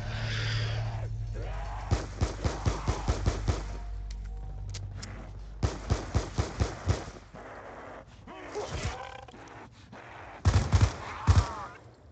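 Call of Duty Mob of the Dead zombies gunfire: rapid bursts of game shots in several volleys, sharp and close, with gaps between, over a steady low game background.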